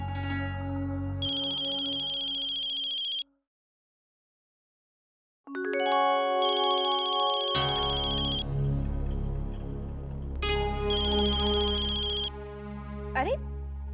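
A melodic phone ringtone plays in a Hindi television drama scene. It sounds clear and loud, stops for a couple of seconds of silence, then repeats with fuller tones underneath.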